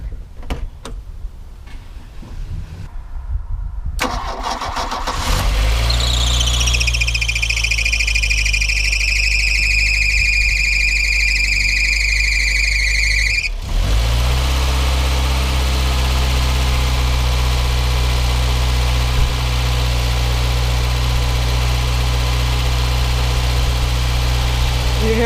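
A 1982 Volkswagen Scirocco engine cranks, fires and revs up with a rising whine, then drops back and settles into a loud, steady idle heard close up for the rest of the stretch.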